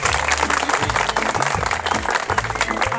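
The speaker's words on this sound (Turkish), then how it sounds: "Alkışlar!" Loud studio-audience applause on a Turkish television show, with dense clapping throughout and low tonal sounds running beneath it.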